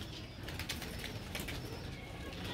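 A baby pigeon flaps its wings as it returns, soft fluttering beats over a steady outdoor background, fairly faint with no clear talking.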